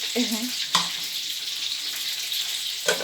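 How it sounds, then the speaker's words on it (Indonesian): Petai stink beans fry in a pan at home with a bright, steady sizzle and a few soft clinks of the pan, plus a short voice near the start. "ini nanti aku mau goreng pete ya pemirsa nih, mau goreng pete"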